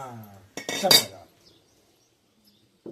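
A single metallic clank of a wok set down on a stove, heard right after a brief voice, then near silence.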